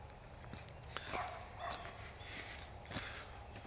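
A dog barking outdoors at a distance, a few faint scattered barks over quiet background noise.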